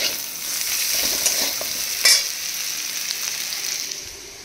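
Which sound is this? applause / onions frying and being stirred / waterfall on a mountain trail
onions frying and being stirred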